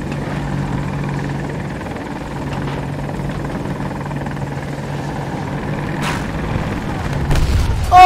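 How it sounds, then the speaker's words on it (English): A video-game helicopter's steady rotor drone fills the scene, then a burst of blasts and crashes near the end as it explodes while trying to land. "Blew myself up trying to land."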